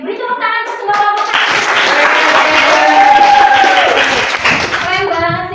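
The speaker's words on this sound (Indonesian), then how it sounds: "Beri tepuk tangan untuk semua kelompok" A classroom of high school students claps for all the groups after a lesson on population pyramids, loud close hand clapping building after children's voices and fading as voices return at the end.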